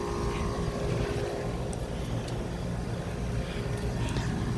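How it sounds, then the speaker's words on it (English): A quiet air conditioner compressor runs outdoors with a steady low hum and a faint, even broadband whir, and it stays constant throughout. "It's a very quiet compressor that is working great."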